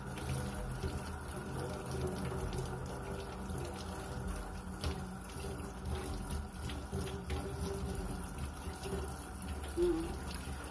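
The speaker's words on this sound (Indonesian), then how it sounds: "Kita bisa bersihkan di atas apa di bawah keran air yang mengalir ya." A kitchen tap runs a small, steady stream while fish are cleaned beneath it, with a continuous low gush and occasional faint clinks and handling noises.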